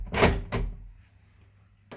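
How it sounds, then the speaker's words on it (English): A uPVC door is pushed shut, two heavy close thuds in quick succession followed by a fading rattle and near silence, with a faint click at the end. "close the door if you can"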